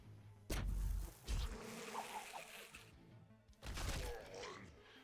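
Bees buzz in The Last Spell video game: a dense, close insect drone surging in two strong bursts, with a softer stretch between them.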